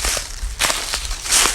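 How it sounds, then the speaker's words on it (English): A few crunching footsteps on dry leaves, close by and uneven, with no voices. "These leaves are so dry and crunchy right now. You can hear footsteps a long ways away."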